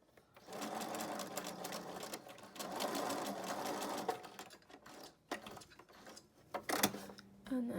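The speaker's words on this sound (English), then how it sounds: "we're going to sew over the top of it and backstitch a little bit" A sewing machine stitches a pleated fabric mask with t-shirt string loops, running in steady continuous bursts of close, rapid needle chatter with short pauses between seams and a brief stop near the end.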